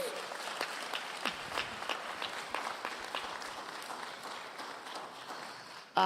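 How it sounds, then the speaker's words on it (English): An audience at a community town hall on fair school funding applauds the panelists with steady, fairly distant clapping that continues for several seconds before a brief thump at the end. "So let's give our panelists another round of applause for sharing their insights."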